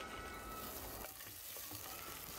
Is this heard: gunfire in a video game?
no